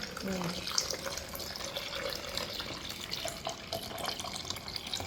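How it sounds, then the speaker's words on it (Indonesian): Tap water runs steadily into a container, a continuous splashing flow heard up close with no one talking. "Ini air keran ya."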